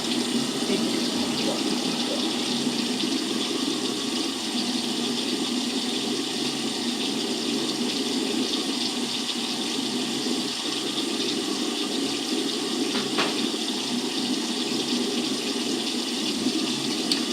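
Water runs from a bathroom tap in a steady, loud, continuous rush that lasts throughout, with a brief knock partway through and no talk.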